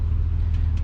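Chopper motorcycle engine idling steadily right after a fresh rebuild with adjusted push rods, set ignition timing and newly installed exhaust, a close, continuous low rumble with no talk over it.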